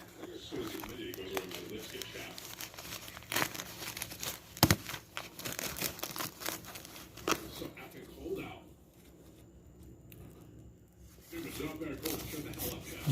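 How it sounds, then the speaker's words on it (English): Skateboard parts, a gears and drivers kit, have their plastic packaging unwrapped one-handed, giving close crinkling and rustling with scattered sharp crackles and a quieter lull, while a person talks. "I gotta unwrap this, and I only have one hand"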